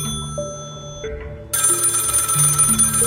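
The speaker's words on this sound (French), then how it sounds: "j'ai entendu une sonnerie" A call center telephone rings, electronic ringtone tones stepping through shifting pitches, then a brighter, louder ringing burst that continues to the end, close and clear with no talk.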